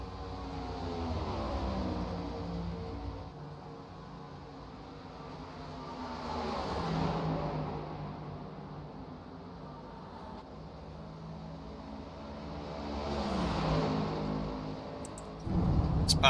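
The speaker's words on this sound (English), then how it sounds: "I thought I heard a car in the grass." A race car in a racing video game drives through grass at Pocono, its engine drone rising and falling in two broad swells, moderately loud and steady with no talk.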